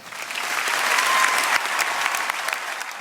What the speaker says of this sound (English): And the crowd just goes wild. They love it.